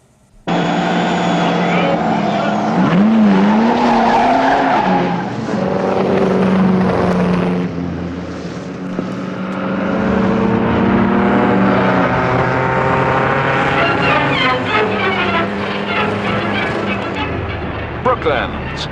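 At a race meeting, speed cars roar past with engine whine and skidding, continuous and loud, while an announcer talks over the noise throughout.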